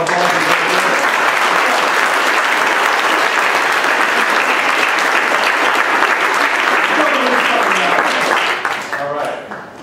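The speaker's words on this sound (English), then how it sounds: "Give a round of applause." Loud, sustained applause from a crowd, steady for most of the clip before tapering off near the end, with some voices mixed in.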